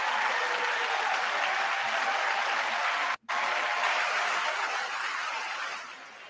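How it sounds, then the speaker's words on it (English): Audience applause at the State of the Union address, a dense, steady wash of clapping that cuts out for an instant midway, then resumes and slowly fades near the end. "They're clapping and they're happy."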